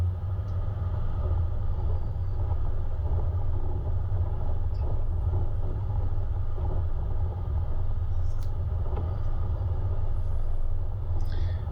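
A Toyota 76 V8 climbing a hill in low range gives a steady, deep engine rumble that holds constant throughout, with faint cabin noise and no speech.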